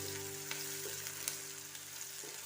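Chopped garlic and onion fry in hot oil for a chilli soya dish, a steady, close sizzle that hisses evenly throughout with no voices over it.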